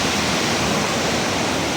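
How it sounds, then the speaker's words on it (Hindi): A small waterfall spills beside a flooded mountain path, giving a constant, dense rush of water with no breaks and no voices over it. "ये देखो आजकल छोटे छोटे झरने बने हुए"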